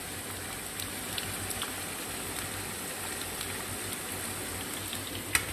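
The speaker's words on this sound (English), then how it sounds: "sweet potato chips in the meantime, so that's what's making all the noise." Sweet potato chips frying in hot oil make a steady, dense sizzle and crackle that runs continuously with little change, with one sharper pop near the end.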